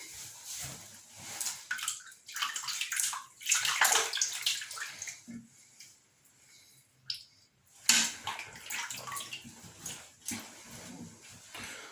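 Tap water runs in a bathroom sink to wet a Gillette Fusion Proshield razor cartridge, coming in uneven splashing bursts with pauses between them and a louder gush near the end.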